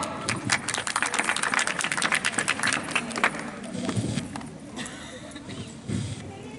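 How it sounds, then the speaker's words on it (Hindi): A crowd at a youth village assembly claps in a dense burst of applause that thins out and fades, with voices rising faintly beneath it. "तालियां भाइयों।"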